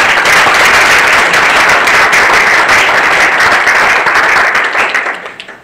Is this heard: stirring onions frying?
no